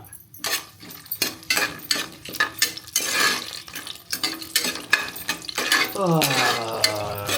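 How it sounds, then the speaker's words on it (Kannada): Cashews roasting in a home kitchen pan for tomato bath, with a utensil stirring and scraping against the metal in repeated bursts and a soft sizzle underneath; a brief voice-like tone rises near the end. "ಓಕೆ, ಫಸ್ಟ್ ಈಗ ರೋಸ್ಟ್ ಮಾಡ್ಕೊಳ್ತಾರೆ ನಮ್ಮಮ್ಮ"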